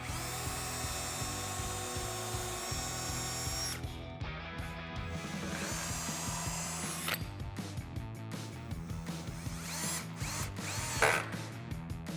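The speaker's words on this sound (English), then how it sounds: "So we're just going to make some pilot holes for our screws again." A power drill makes pilot holes for screws while a Lange Power Hoist-A-Top is fitted on a Jeep Wrangler JL. Close, loud whining bursts start and stop several times with clicking in between, and no one talks.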